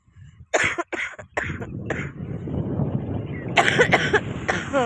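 Several sharp, close coughs from someone with a cold, in quick succession, followed by rough throat noises and a burst of hoarse sounds near the end.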